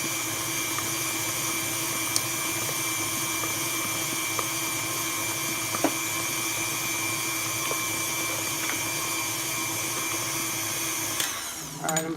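A stand mixer beats red velvet cake batter in a bowl with a steady, loud, unbroken electric whir, ending with a brief clatter near the end.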